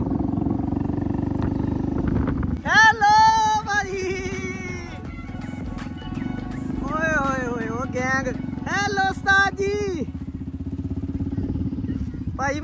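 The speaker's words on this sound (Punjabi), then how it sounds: "motorcycle he motorcycle" A large group of motorcycles rides together on a road, their engines forming a continuous low rumble under loud, excited voices calling out nearby.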